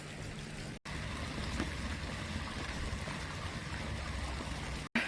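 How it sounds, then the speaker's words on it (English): Water overflowing from a lidless garden water pot outdoors in the rain, a steady close rushing trickle that runs continuously without talk, cut by two brief dropouts. "My water pot's knocked its lid off and is overflowing"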